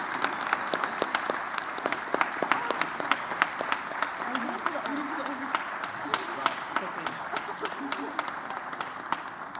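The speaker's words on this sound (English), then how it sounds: "please join me in one final round of applause" A room claps for new National Honor Society members at an induction ceremony, many hands going in a steady stream with some sharper nearby claps, while a voice murmurs underneath.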